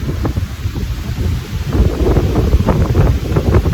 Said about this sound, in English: The wind! Oh my goodness!